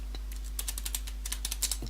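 Crisp, close clicking of keys on a computer keyboard as a Linux command is entered, a steady run of a dozen or so keystrokes over a low constant hum, with no talking.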